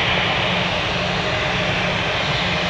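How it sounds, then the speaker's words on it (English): A British Airways Boeing 777 comes in to land at an airport, its jet engines making a loud, continuous broadband roar that stays constant and close throughout, with no speech. "this 777 from British Air is landing over on the west side"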